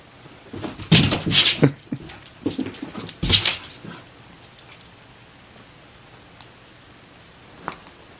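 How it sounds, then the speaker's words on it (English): A puppy whimpers and whines in short, high-pitched bursts, close by, with quieter yips and rustling between the cries. "Got a puppy here."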